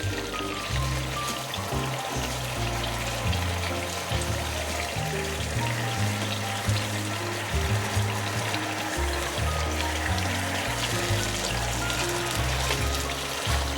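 Tofu pockets braise in sauce in a pan, giving a continuous close crackling and bubbling simmer over a steady low rhythmic backing that runs throughout.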